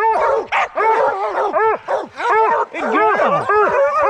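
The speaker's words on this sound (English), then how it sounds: "I'm sure these dogs are roaring." Several hunting hounds bark and bay in rapid overlapping bursts close by during a black bear hunt, with short howling yelps and someone briefly speaking under the din.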